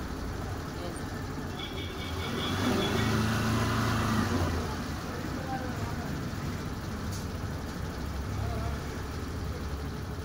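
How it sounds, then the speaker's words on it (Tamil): A Suzuki Access 125 BS6 scooter engine idling steadily after a TPS adjustment, a close continuous low hum that swells slightly for a moment, with someone talking over it. "இப்போ நம்ம வண்டி அந்த டிபிஎஸ் கரெக்டாக வச்சு ஸ்டார்ட் பண்ணியாச்சு"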